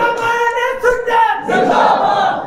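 A religious gathering chants the devotional slogan "Ya Ali" in unison, loud, close, rhythmic massed voices in two short bursts.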